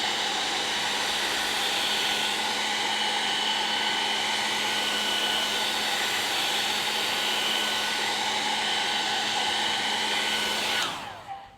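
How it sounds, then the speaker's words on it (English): A hair dryer on its lower setting, used to move alcohol ink across Yupo paper, blows as a loud, steady whir with a faint tonal hum and cuts off abruptly near the end. "one of the fun things with the hairdryer is not blowing directly on it"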